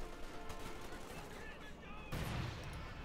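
Distant battlefield gunfire in Company of Heroes 2, a dense crackle of small-arms shots mixed with a louder burst near the end, running under a commentator's voice.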